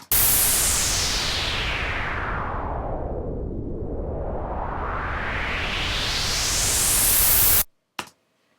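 A synthesized white noise transition effect with an automated filter sweep: a loud, steady hiss whose brightness narrows to a dull centre and then opens back up before cutting off abruptly, followed by a short blip.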